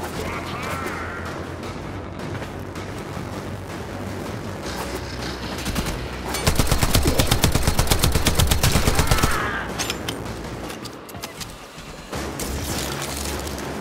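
Warframe video game gunfire: a sustained rapid-fire burst in the middle, with scattered shots and game effects before and after.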